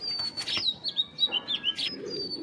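A female Giribaz racing pigeon flaps its wings in a rhythmic run of about six quick, close wingbeats, with faint chirps over quiet background.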